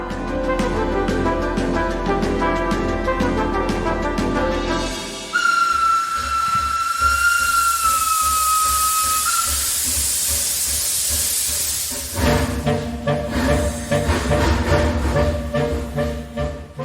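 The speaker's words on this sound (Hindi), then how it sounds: "पटरियों पर तेजी से दौड़ रही एक भयानक सी रेलगाड़ी। इसे खींच रहा था भाप का एक इंजन।" A steam locomotive engine racing along the rails, with a long shrill whistle tone over continuous loud hissing steam and a steady rumbling chug that returns once the whistle fades.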